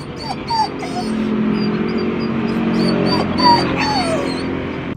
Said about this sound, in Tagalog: si Negneg, pakinggan nyo umiiyak